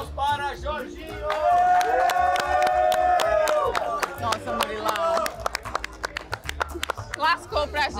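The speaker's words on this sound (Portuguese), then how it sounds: "Palmas para Jorginho!" Studio crowd applauding and cheering for Jorginho after a rhythmic gymnastics challenge in a Brazilian house, with loud whoops and a swell of voices followed by scattered claps and shouts.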